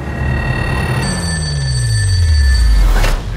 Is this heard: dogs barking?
no